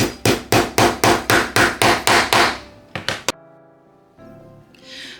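A metal die struck with a hammer to punch holes in a handmade belt: about a dozen loud, evenly spaced blows, then a pause, a few final strikes and a ringing decay.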